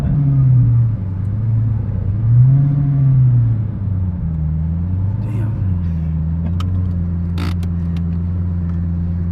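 Twin-turbo Lamborghini Gallardo tuned to about 1,000 horsepower, heard from inside the car: a deep, loud engine drone that swells and dips as it revs and pulls, then settles into a steady roar, with a few brief clicks near the end.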